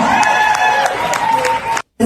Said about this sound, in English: it got quite the applause there